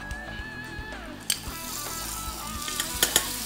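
Paprika and adjika sizzle steadily in well-heated oil, a continuous close frying hiss with a few sharp spatters and light stirring clinks near the end.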